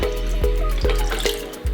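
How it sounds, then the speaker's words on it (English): Water trickles and drips into a pan of caster sugar for a syrup base, a close, steady pouring sound with small repeated splashy pulses and no voices. "I will put 140 grams of caster sugar, to which I will add the same amount of water, 140 ml"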